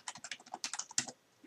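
Quick bursts of typing on a computer keyboard, a dozen or so close, crisp keystrokes in a fast run that stops near the end.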